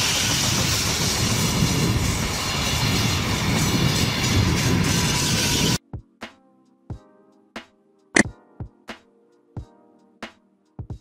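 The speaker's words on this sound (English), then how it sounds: "Double-decker train, a train with two levels of passenger compartments" A double-decker train rushes past in a loud, continuous roar, then cuts to sparse, sharp clacks of wheels over rail joints spaced out like a slow rhythm.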